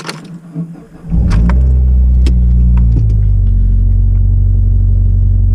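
An engine cranks and catches, then settles into a loud, steady idle rumble that holds without pause.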